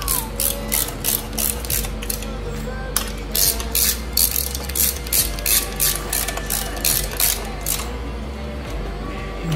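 A ratchet wrench clicks in quick repeated bursts while snugging bolts during a scrambler motorcycle engine swap, close and loud over a steady low hum, with short pauses between strokes and no talking.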